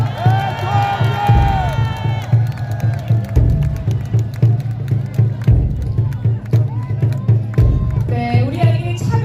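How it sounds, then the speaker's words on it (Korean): Crowd applause and cheering at a Seoul election campaign rally break out in repeated swells over a steady low drone from the venue's sound system, with claps and shouts, some children among them, lasting throughout. "여러분 큰 박수 보내주시기 바랍니다."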